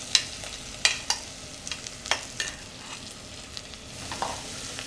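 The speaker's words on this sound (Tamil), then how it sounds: "இந்த வெங்காயம் வந்து அந்த 2 வெங்காயத்தை வந்து போடுறோம்" Two chopped onions frying in a pan for curry leaf chicken, a steady close sizzle with sharp crackles and occasional stirring scrapes throughout.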